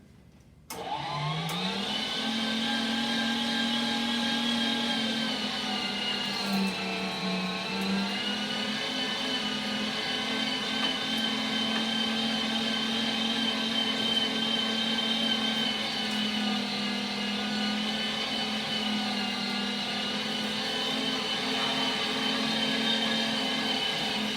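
An electric meat grinder runs steadily while chunks of meat for jerky are fed through it. Its motor gives a loud, continuous whine and hum that dips briefly under load, with no one talking.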